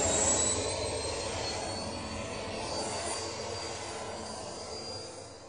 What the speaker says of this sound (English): It's an airplane taking off.